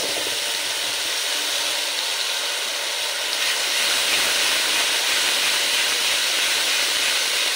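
Ground spice paste with cumin hits hot oil in a pan for a pabda and shingi fish curry, giving a loud, sustained sizzle that swells further partway through, with no talking.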